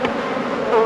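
Welsh Black honeybees spread across a single frame in a nuc, giving a steady, close buzzing hum that swells slightly near the end.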